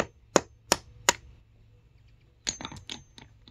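Three sharp metallic hammer taps in a steady rhythm, driving a chain pin back in on a plate, a pause, then a quicker cluster of lighter clinking strikes, close by.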